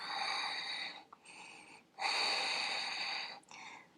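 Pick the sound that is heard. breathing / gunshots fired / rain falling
breathing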